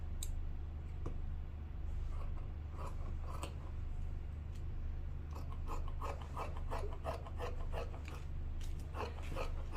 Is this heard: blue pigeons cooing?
no